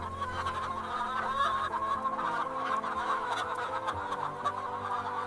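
Chorus of many chickens clucking and chirping inside a giant chicken farm, a dense, moderately loud continuous flock murmur with overlapping calls and no talking.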